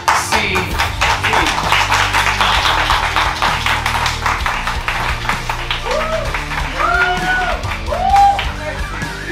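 Crowd at an XCW Halloween Harvest wrestling event applauding the brand new XCW champion, steady dense clapping throughout with scattered cheers and yells rising toward the end, a voice speaking over it.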